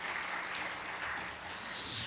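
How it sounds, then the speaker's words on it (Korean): A congregation at a Korean church worship service claps in a brief, even burst of applause with no talking, heard at a moderate distance. "여러분 박수로 한번 격려해 주시기를 바랍니다"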